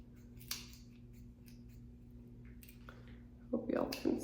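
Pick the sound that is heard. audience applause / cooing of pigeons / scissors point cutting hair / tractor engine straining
scissors point cutting hair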